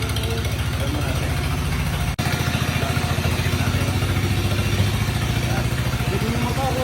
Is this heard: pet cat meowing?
no